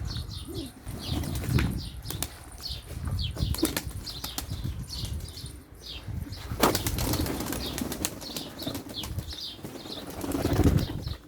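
Domestic pigeons, including a white tumbler, take off and circle, giving repeated bursts of wing flapping and clattering at moderate distance, with soft rustling between flurries and no speech.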